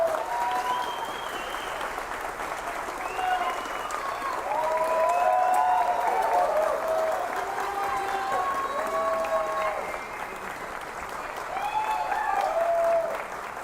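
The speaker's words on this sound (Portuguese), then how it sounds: "Quero uma salva de palmas para os caras." A crowd applauds at a political speech in Maringá, Paraná, with sustained dense clapping and scattered cheers and shouts rising and falling, voices calling out above the steady roar.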